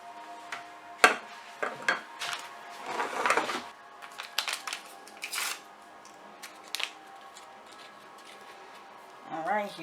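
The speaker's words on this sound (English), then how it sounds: "Give that a little stir." A spoon stirring sazon seasoning into a pot of Puerto Rican shrimp soup, with a series of light clinks and scrapes against the pot, some quick and clustered, under occasional talking.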